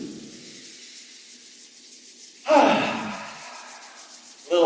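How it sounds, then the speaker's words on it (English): Palms rubbing together briskly during a qigong self-massage, a close soft friction hiss in two short bursts, the first swelling strongly then fading before the second starts. "Rub the palms together."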